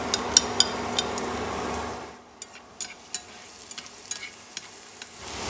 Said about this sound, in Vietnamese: Em cho vào đây một ít tỏi băm và gốc hành lá để mình phi thơm.